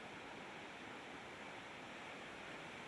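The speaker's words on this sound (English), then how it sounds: "you can hear the river, and you can go to sleep just listening to the water go by" A river flows near a hot springs getaway, giving a steady, even rush of water that stays faint and unchanging throughout, with no voices.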